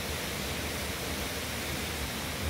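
Water flows through a plant-filled natural spot, giving a steady, soft rushing hiss with no break and no voices.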